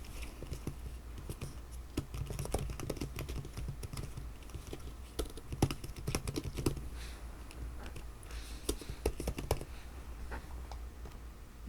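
Fast keyboard typing on a computer keyboard while entering text in Photoshop, a steady run of close clicky keystrokes with short pauses, heard alone without speech.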